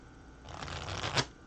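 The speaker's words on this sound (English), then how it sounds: "One more shuffle and we'll lay out the cards" A brief riffle of tarot cards being shuffled nearby, a soft flutter building to a quick snap at the end.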